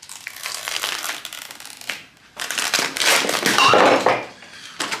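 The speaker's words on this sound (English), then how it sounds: "now I'm gonna take off the mold and see how it goes" A printed mold is pried and peeled off a sculpture candle, giving close, loud bursts of crinkling and cracking with a short pause midway.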